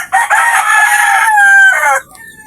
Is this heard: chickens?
yes